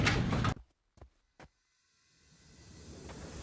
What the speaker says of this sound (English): the doors creaked open